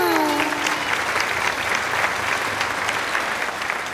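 A crowd at a Ms Gay pageant breaks into loud, sustained clapping and cheering for a contestant on stage, a dense roar that holds steady and only eases slightly toward the end.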